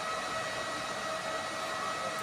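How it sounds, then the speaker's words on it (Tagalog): A cooling blower fan on a homemade battery charger running at 24 volts, giving a steady, close, whooshing whir with no break and no voices. "ito yung blower natin lumakas din"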